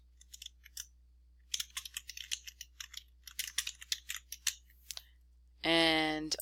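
Someone types on a computer keyboard in quick bursts of light clicking keystrokes, close and soft, pausing now and then, before a brief tonal electronic chime at the end.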